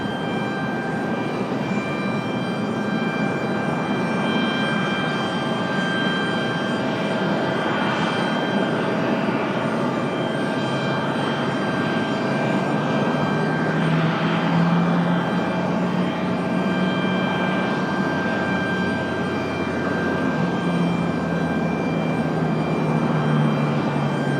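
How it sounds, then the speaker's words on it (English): A Delta Airbus A220-300 arriving at Raleigh-Durham International Airport gives a steady, loud jet roar that holds evenly for the whole stretch, with a faint tonal whine on top and no speech. "Delta 2283 from Boston, Mass. Going to be our next arrival on A220-300."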